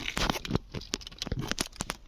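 Paper wrappers being peeled off a square sweet, a quick run of close crinkling and tearing crackles with no voices.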